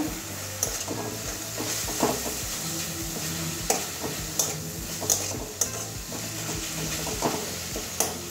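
Pointed gourd frying with turmeric in a pan sizzles steadily up close, while a spatula scrapes and taps against the metal at regular intervals, with no one talking.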